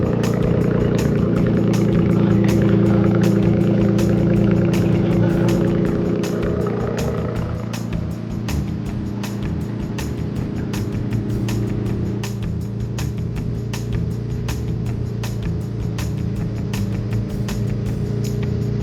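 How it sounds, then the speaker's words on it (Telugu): A car engine runs just after a cold start on a drive toward the Araku hills, idling loud and steady with a rapid ticking pulse that softens slightly partway through. "ఇప్పుడే కార్ కోల్డ్ స్టార్ట్ చేసా. అసలు నెక్స్ట్ లెవెల్ లౌడ్ వస్తుంది కార్ అయితే."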